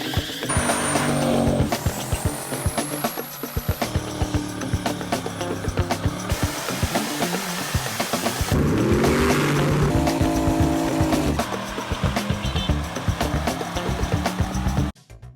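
A 2010 Dodge Challenger V6 on dyno rollers roars loudly and continuously, its revs rising and falling with whining tones and rattles throughout, close up and without talk.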